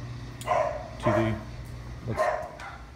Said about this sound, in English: this freaking dog right here.